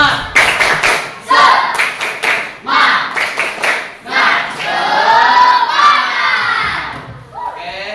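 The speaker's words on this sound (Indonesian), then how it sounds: "Bapak pengen kompak. Tepuk semangat." A school class performs the 'tepuk semangat' chant, a loud, close burst of rhythmic group clapping mixed with children shouting and chanting in unison, ending in cheering voices.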